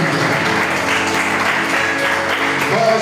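Church congregation applauding together during a worship service, a dense, loud, continuous clapping that fills the space throughout.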